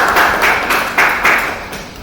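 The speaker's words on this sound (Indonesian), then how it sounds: "Tepuk tangannya dong, ya." A 10th-grade class claps their hands in a classroom. Several bursts of clapping rise and fade in an uneven rhythm, fairly close and loud.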